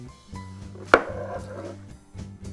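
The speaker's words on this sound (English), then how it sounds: "I will be starting with my mushrooms. I will be slicing them quite thinly." Knife slicing mushrooms thinly on a cutting board, a few soft chopping taps with one sharper cut, close and fairly quiet with no talking.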